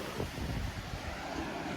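Sea waves wash on the Costa Daurada shore, a steady broad roar of surf mixed with wind buffeting the microphone.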